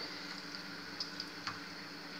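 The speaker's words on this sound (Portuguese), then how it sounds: "Vamos fritar mais uma aqui pra gente." Coxinha frying in hot oil, giving a steady, close hiss and sizzle with a few faint pops and crackles.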